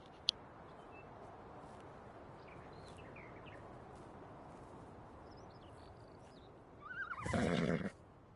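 A horse in a multiplayer video game gives one loud, close whinny near the end, after a long quiet stretch with faint bird chirps in the background.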